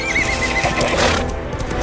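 A white horse gives a loud, close whinny with a rising and falling shrill tone, over steady hoof clip-clops on hard ground, with no talk.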